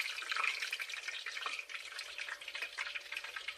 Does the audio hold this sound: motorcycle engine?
no